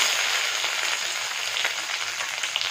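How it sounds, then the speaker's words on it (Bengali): Capsicum lightly frying in a kadai gives a steady, close sizzle of hot oil with faint crackles throughout, with no talking. "আগে ক্যাপসিকামটা আমি হালকা কড়াই আমি ভেজে নেব।"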